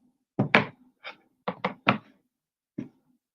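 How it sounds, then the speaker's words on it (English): A knife taps on a small chopping board while vegetables are cut, a handful of sharp, separate knocks in an irregular rhythm, close and clear against silence. "I'm going to start chopping up some little vegetables."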